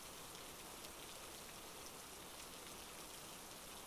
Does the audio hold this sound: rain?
yes